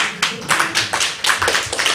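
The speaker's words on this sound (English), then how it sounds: "Can we have a round of applause?" Audience applause at a talk, a burst of clapping hands with uneven, rapid claps that rise and fall over two seconds, fairly close and with no voices.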